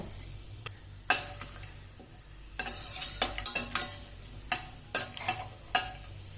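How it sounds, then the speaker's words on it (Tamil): Whole spices sizzle in hot oil inside a pressure cooker while a utensil stirs and clinks against the metal pot, with irregular scraping taps over a steady frying hiss, close up. "இப்போ எண்ணெய் காஞ்சிச்சு, நம்ம குக்கரில் சேர்த்துக்கலாம் ஹோல் ஸ்பைசஸை."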